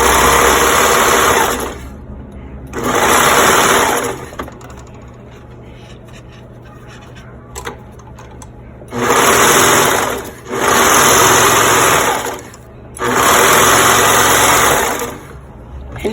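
A sewing machine stitches fabric for a face mask in four loud bursts of a few seconds each, with quiet pauses between runs and no talking.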